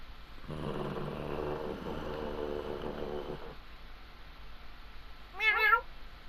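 In the video game Sword and Fairy 6, a drawn-out, low cat meow with a growly edge plays first, then after a pause a short, high, wavering meow-like cry.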